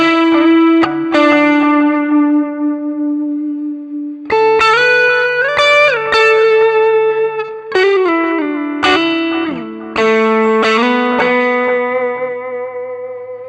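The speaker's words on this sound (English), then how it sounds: "Some delay." Electric guitar through a NUX Mighty Plug headphone modeller set to a Deluxe Reverb amp model with delay, playing sustained notes and bends whose repeats trail off behind each phrase, clear and steady with no talking.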